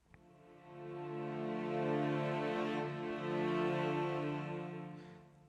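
A sustained string ensemble chord holds steady, starting with a full, bright bowed normale tone before shifting to sul tasto, a gentler, breathier texture with faint vibrato.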